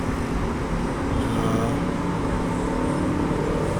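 Road traffic flows along a Manila street on a holiday. A continuous, fairly loud roar of passing cars and other vehicles runs the whole time, with no clear individual pass-bys standing out.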